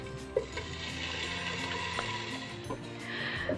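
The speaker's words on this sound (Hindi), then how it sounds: "गोश्त हमारा बहुत अच्छे से भुन रहा है" Marinated beef pieces frying in hot oil in a pot over a medium flame, a steady soft sizzle with occasional clinks and scrapes of a spoon stirring, fairly quiet and close, no voices.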